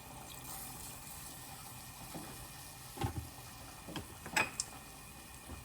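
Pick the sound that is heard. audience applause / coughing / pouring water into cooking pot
pouring water into cooking pot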